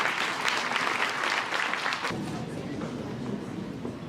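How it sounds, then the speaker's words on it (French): A crowd at a local awards ceremony applauds a long-serving medal recipient, the dense clapping strong for about two seconds and then thinning and fading. "Donc on peut l'applaudir."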